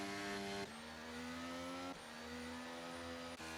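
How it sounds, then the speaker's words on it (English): F1 race cars in a racing video game weave to warm their tyres, giving high, sustained engine whines that shift pitch abruptly as gears change, steady and fairly quiet with no talk. "Drivers are warming their tyres"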